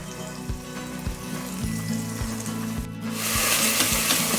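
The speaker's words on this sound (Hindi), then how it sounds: "लहसुन अदरक को हल्का सा भूनने के बाद" Garlic and ginger sizzle steadily in hot ghee with a soft crackle, interrupted by periodic scraping stirs, then a louder hiss swells near the end.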